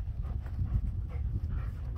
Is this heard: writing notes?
no